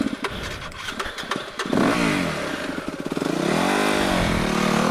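WR dirt bike engine revving hard on a trail, close and loud, with rising and falling pitch sweeps through repeated throttle blips, accompanied by rushing wind noise.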